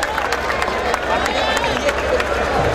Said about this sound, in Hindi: जोरदार तालियां बजाएं भाई इनके लिए